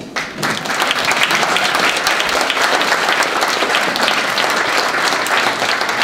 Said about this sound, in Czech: tady už nám jde velký potlesk